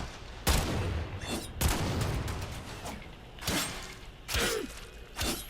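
Shotgun blasts from the built-in shotgun of the Redeemer weapon in Warframe, about five loud, sharp booming shots at irregular intervals with short decaying tails and some mechanical clatter between them.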